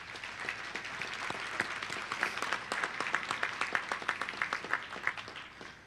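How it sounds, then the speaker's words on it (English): Audience at a Hall of Fame sports dinner breaks into a warm round of applause, many hands clapping in a dense, steady patter with sharper individual claps standing out near the front, swelling slightly midway and holding to the end. "you all show her that warm round of applause and appreciation"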